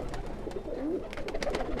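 A golden-touch pigeon coos softly in a few low, rolling phrases against steady background noise, fairly close but not loud.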